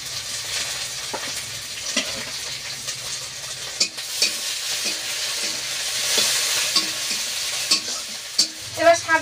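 Shrimp and crabs frying in a wok, a loud continuous sizzle broken by repeated scraping and clinking stirs of a spatula, with no voices.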